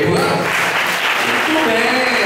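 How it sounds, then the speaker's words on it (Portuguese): An audience applauds Silênia and Alex, a married couple, in a dense, continuous clatter of hands with voices talking and calling out underneath. "Dá uma salva de palmas para ele, Diego."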